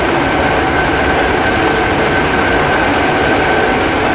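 A WAG 7 locomotive cab runs on the Kerala Valley route in a train simulator, with a loud, steady rumble and rail noise and a faint high whine, and no talk.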